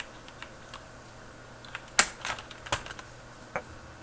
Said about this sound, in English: When I press the keys, they are lighter than the Cherry Black.